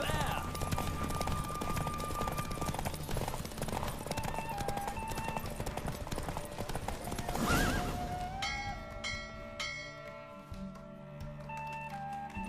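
Horse galloping in a race in The Witcher 3 video game, with neighs and clip-clop hooves running steadily under game music and a character voice, ending as the race winds down into music.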